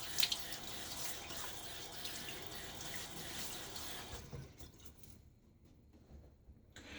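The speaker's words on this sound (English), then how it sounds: "throw some water on my face" Water runs from a tap and splashes as it is thrown onto a face before a wet shave, steady and close at first, then tapering into quieter drips.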